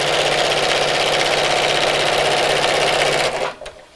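A sewing machine runs steadily, stitching a fleece Christmas gift sack with a quarter-inch seam. The motor hums evenly and loudly, then stops near the end.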